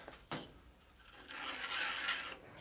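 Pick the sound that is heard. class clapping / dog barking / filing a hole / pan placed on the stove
filing a hole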